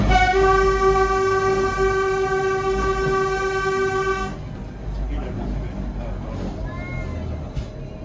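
A mountain railway train climbing toward the Christ the Redeemer statue sounds a long, steady horn blast for about four seconds, followed by rumbling rail noise and faint voices in the background.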